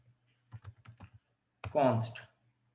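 Code is typed on a computer keyboard as a run of quick, close key clicks, followed by a brief spoken phrase.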